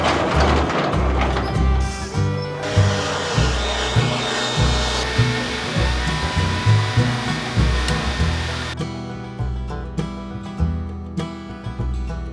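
Compressed air or a blower cleaning off a wooden truck bed, a loud continuous rushing hiss that pulses and sweeps with movement, then drops to a quieter rush for the last few seconds.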